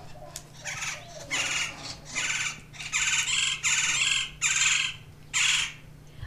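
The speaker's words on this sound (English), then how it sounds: "we could hear the chatter of the woodpeckers. They are quite raucous." Gila woodpeckers chattering raucously at a desert museum in the Arizona Sonora Desert, a series of loud, harsh squawking bursts repeating in a steady rhythm, close by, over a low constant hum.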